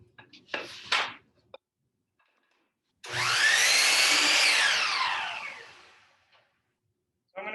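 A power saw cuts wood for a cabinet face frame: one loud, close, whining cut lasting about three seconds that rises and then winds down, with brief handling knocks before it and near silence around it.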